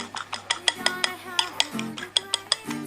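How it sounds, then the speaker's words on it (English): A utensil stirs beaten eggs with a few drops of soy sauce for a Thai sweet basil omelette, tapping the bowl in a quick run of sharp clinks and scrapes, close and fairly light. "And then stir."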